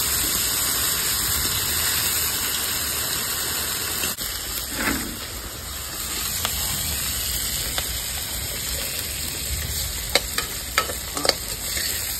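Fish lightly frying in hot oil in a kadai makes a continuous loud sizzle with a high hiss. Scattered clicks and soft clatters near the end sound like stirring against the pan.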